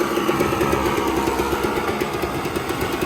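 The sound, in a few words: two-stroke dirt bike engine running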